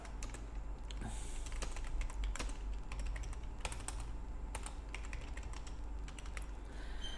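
Computer keyboard typing while building an invoice in Microsoft Excel, a steady run of close, crisp key clicks with a few louder taps, continuing for several seconds with no voices.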